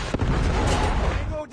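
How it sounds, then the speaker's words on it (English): A heavy missile blast from a Call of Duty Mobile airstrike, a deep rumbling roar that swells and holds for about a second before cutting off, with a crack at the start. "Friendly predator missile inbound."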